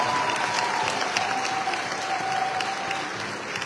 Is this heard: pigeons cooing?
no